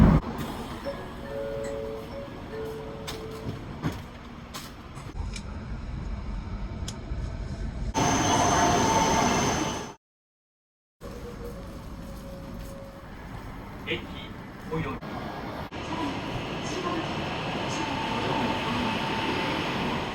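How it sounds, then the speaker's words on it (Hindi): Riding inside a Japanese bullet train through mountain tunnels gives a steady rolling rumble with small clinks, a louder roaring surge in a tunnel, a brief dropout, then a renewed hiss of speed, with someone talking over it. "बुलेट ट्रेन जा रही है"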